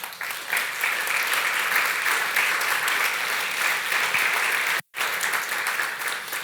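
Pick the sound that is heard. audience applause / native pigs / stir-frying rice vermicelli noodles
audience applause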